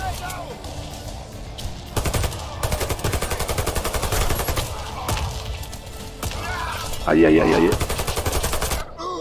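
Rapid bursts of automatic gunfire from the online shooter Warface on PS4, crackling in dense volleys across the scene, with a player's voice talking briefly over the shooting.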